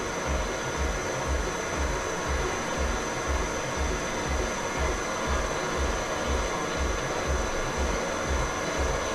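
Crankshaft grinding machine with its wheel being wound in toward a crankshaft, giving a steady loud mechanical whir with a regular low pulsing throb throughout, no talking.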